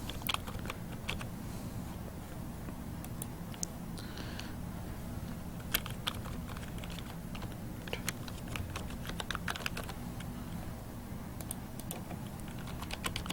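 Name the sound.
typing on a computer keyboard to enter a record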